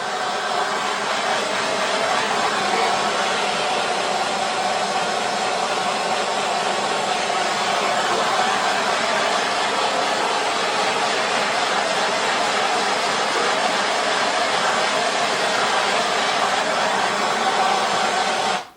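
A torch roaring steadily as it heats the welds on a titanium turbo inlet pipe for an Acura Integra Type S, a constant loud broadband hiss close by with no breaks.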